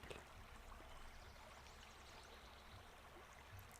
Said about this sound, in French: Écoutez simplement le murmure de la rivière